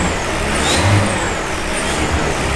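A BMW G Power engine runs with a newly fitted exhaust system, a loud, close, continuous rumbling drone with a slight rise in revs, no voices over it.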